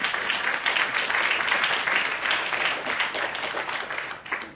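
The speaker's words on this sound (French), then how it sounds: "Je vois qu'il y en a qui veulent applaudir." An audience at a science and manga festival talk breaks into steady, sustained applause, a dense wash of many hands clapping that holds evenly before tapering off at the end.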